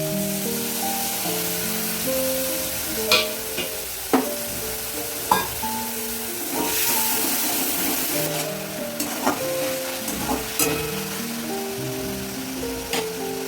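Water-mixed spice paste hits hot oil in a pan, producing a loud, sustained sizzle broken by repeated scraping stirs and clicks of the spoon, with a soft tonal hum in the background.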